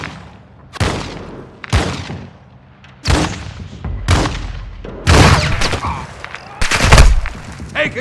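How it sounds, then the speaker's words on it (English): Several heavy, separate gunshot bursts in Call of Duty Modern Warfare 2 DMZ mode land at uneven intervals, loud and close, with game radio chatter in the gaps. "Taking effective fire!"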